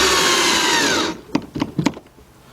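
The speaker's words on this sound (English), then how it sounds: "let's take our 4 T20 Torx screws, and we're going to put them back into place" Power tool whirring steadily as T20 Torx screws are driven into a BMW X5 door, then stopping, followed by a few short clicks and clunks of parts being handled, loud and close, no talking.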